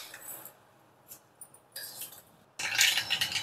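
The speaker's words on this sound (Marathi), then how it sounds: "आता आपली मोहरी तडतडली" Mustard seeds crackle in hot oil in a kadhai: a few quiet scattered pops at first, then a sudden burst of dense, loud spattering crackles.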